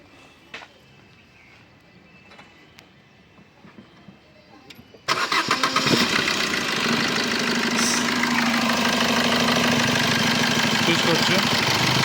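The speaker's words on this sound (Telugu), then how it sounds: "ఒకసారి ఇంజిన్ స్టార్ట్ చేస్తాను చూడండి అన్న." A 2018 Maruti Brezza ZDi+ diesel cranks and catches after a few seconds of quiet, with faint clicks beforehand, then settles into a loud, steady, close idle with a rough knocking texture.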